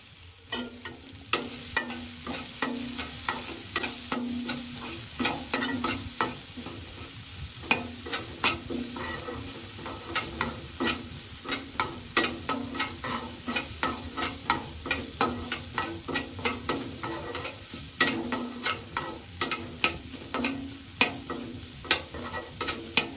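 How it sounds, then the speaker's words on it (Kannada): Vegetables for pasta fried with chili flakes and oregano in a pan, stirred with rapid repeated scraping strokes over a continuous sizzle, the strokes growing faster and more regular, close and clear. "ಇವಾಗ ಚೆನ್ನಾಗಿ ಫ್ರೈ ಮಾಡ್ಕೊಳ್ಳೋಣ."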